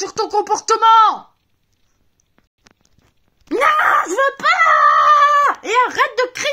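A child screams in long, high, wavering wails, first a short burst and then after a silent gap a longer loud outburst, close up with some pitch breaks.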